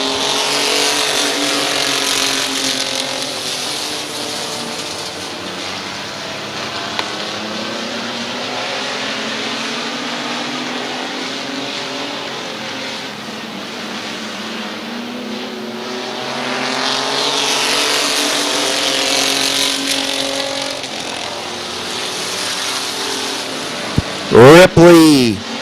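Race trucks circle a speedway oval at Midvale Speedway with engines droning and swelling as the pack roars past, the loud continuous noise rising and falling, and a few sharp knocks near the end.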